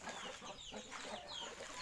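Fighting roosters and chickens cluck and murmur at a distance, a soft ongoing barnyard chatter with no talking.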